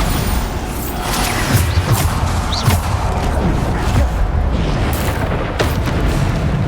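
Bombarda spell blasts go off in Hogwarts Legacy combat, a loud continuous stretch of booming impacts and crashing debris, with several sharp hits layered over a dense rumble.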